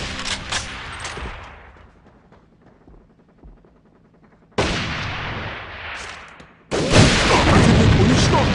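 Grenade blast and gunfire in the online shooter AVA, with loud bursts of shots and explosions that fall away to a quieter gap, then surge back in two dense, loud blasts near the end.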